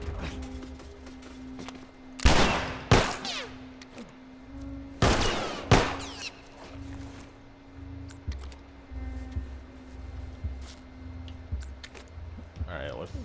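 Gunfire in The Last of Us Part II: a few sharp, loud shots cracking out in a cluster, then fainter impacts and movement sounds beneath a steady low hum.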